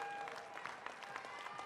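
Spectators at a military powerlifting competition applaud in a soft, steady patter of many hands, somewhat distant and brief.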